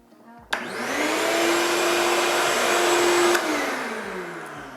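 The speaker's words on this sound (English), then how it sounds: "I'm going to turn on my vacuum" A shop vacuum in a woodturning workshop switches on with a sudden whoosh and runs loud and steady, its motor whine holding for a few seconds before beginning to wind down.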